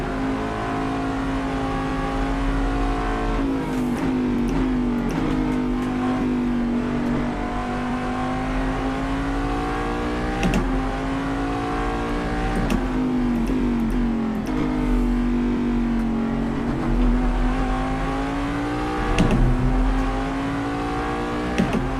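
Corvette DP prototype race car in Assetto Corsa, driven in VR: a steady, loud engine drone that rises and falls through the gears, with short dips and sharp shift blips at intervals and no voices.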